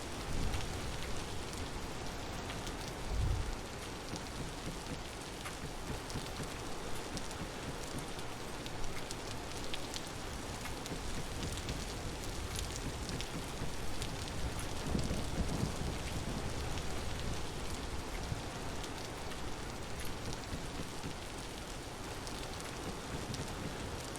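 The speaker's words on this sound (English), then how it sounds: "it is really dark out here, even with the lantern. Rain is not helping." Steady rain pours through a dark night in the survival game Vintage Story, a dense, even hiss of drops on surfaces that carries on unbroken throughout, with a faint low rumble now and then.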